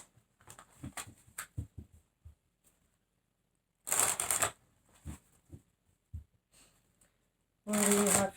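Oracle cards being shuffled by hand in soft riffling bursts: a run of quick light taps, then louder dense shuffles separated by pauses, close and fairly quiet.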